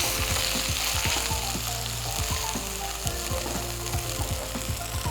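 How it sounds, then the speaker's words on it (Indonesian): Food being stirred while it fries in a pan, with tomato and a splash of water added, gives a steady loud sizzle with a repeated rhythmic scraping of the spoon close by, and no voice. "Kita aduk-aduk sebentar."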